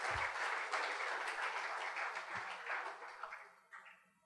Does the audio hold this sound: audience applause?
yes